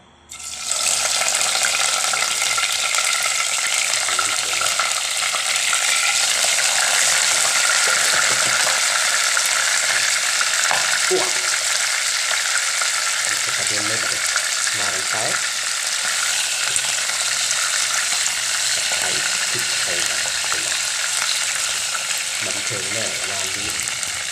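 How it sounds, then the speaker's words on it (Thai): Field rat frying in hot oil in a wok, a loud and continuous bubbling sizzle that runs throughout, with occasional faint clatter and a voice speaking softly underneath. "แล้วเราก็ทำการทอดเลยนะฮะ นี่คือการทอด ครั้งแรกของข้าพเจ้า"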